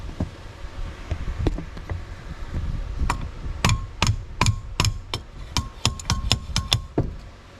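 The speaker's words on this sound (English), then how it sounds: "Just need to give it a couple taps with a" A rubber hammer taps a part into a Willys Jeep F-head engine under rebuild: scattered soft knocks, then about a dozen sharp, close taps in a quick, fairly steady rhythm, with no talking.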